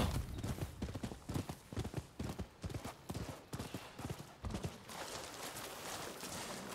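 A horse gallops in the video game Rise of the Ronin, with rapid, regular clip-clop hoofbeats that are loud and close, then fade into a softer ambient wash.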